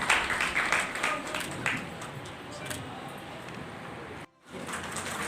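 An audience at a Delhi teachers' felicitation ceremony claps to welcome a guest, a burst of dense applause that thins and fades after a couple of seconds into a lower murmur, with a brief gap near the end.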